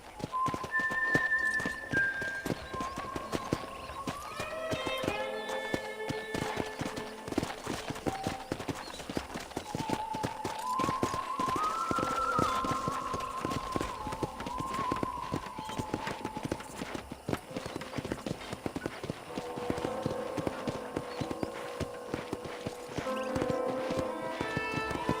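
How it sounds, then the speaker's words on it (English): Steady rhythmic clip-clop of horse hooves trotting throughout a ranch in the video game Red Dead Redemption, with occasional whinnies and faint voices in the background. "let's see if you can still ride a horse"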